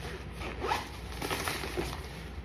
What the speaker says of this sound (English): you have a small little zipper pouch here